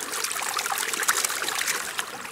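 Water sloshes and trickles gently in a gold pan as material from a Garrett Super Sluice is swirled and stratified, a soft, continuous watery rustle close by.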